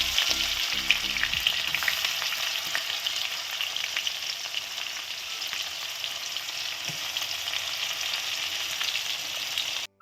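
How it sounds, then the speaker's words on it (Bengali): Onions sizzling steadily in hot oil already seasoned with whole-spice tempering, a dense continuous frying hiss with occasional pops and a few stirring clinks, fairly close and without any voices. "পেঁয়াজটা ভেজে নিয়ে"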